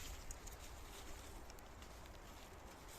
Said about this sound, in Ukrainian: Дощик йде.